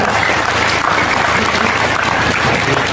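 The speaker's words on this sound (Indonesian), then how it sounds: "Tepuk tangan untuk puskesmas." Audience applause for a community health centre at a speech event, a dense steady wash of clapping filling the whole stretch at even loudness with no pauses.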